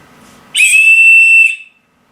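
A loud, shrill survival whistle blast rings out steadily for about a second, then cuts off into silence.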